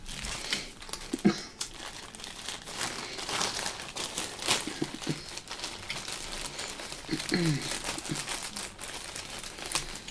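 Tim Holtz paper dolls being handled, giving a steady run of crinkling and rustling paper, with sharper crackles and scrapes near the start and again toward the end, close and moderately loud throughout.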